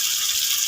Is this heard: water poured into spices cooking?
yes